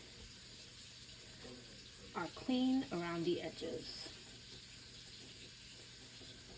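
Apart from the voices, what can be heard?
hot water running for cleaning pickle jars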